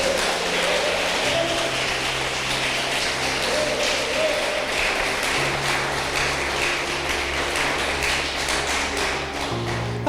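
Church congregation clapping during a worship service, a steady dense patter of many hands filling the room throughout, with faint murmuring voices underneath.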